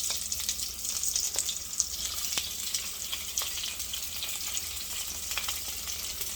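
Vegetables frying with garlic in a hot pan for lo mein, a steady close sizzle with occasional stirring scrapes and no talk.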